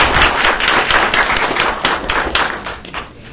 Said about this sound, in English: I ask you to join me in a round of applause for our panel